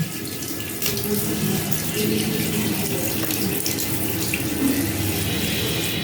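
Tap water runs steadily from a kitchen faucet while onion, garlic, ginger and lemongrass are washed under it, a continuous close splashing hiss throughout with no talk.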